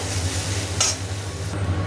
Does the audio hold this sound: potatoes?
yes